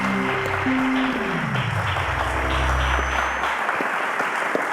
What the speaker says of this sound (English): A round of applause to Sharon, guys.